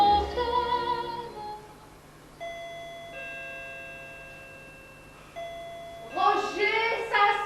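A doorbell chimes in a theatrical stage setting, with long sustained bell tones ringing out between spoken voices, moderately loud and close, the tones fading slowly after each strike.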